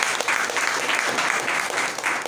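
A church congregation bursts into brief, steady applause, many hands clapping together close by and fairly loud.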